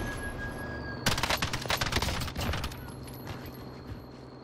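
A burst of AUG rifle fire in a shooter game, a rapid string of loud, sharp shots lasting about a second and a half before fading, with quieter ambient game sound before and after and no talk.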